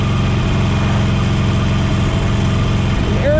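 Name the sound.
Harley-Davidson Sportster 48 air-cooled 1200cc motorcycle engine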